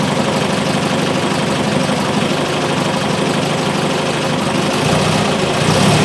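Triumph Spitfire engine running steadily and loudly close by, a dense continuous drone with a slight rise near the end as the revs come up, no voices over it.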